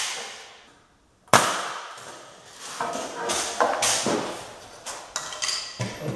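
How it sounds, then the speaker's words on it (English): Wooden window jamb pieces are nailed together on the ground, a sharp close strike followed by a series of irregular knocks and taps of varying loudness. "So we're gonna start out just by nailing them together on the ground."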